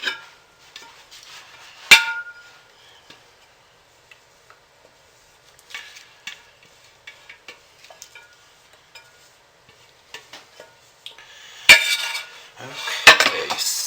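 A utensil scraping out a container: sparse clinks and light scratchy scrapes spread across the stretch, quiet between strokes, with a few louder rattling scrapes near the end.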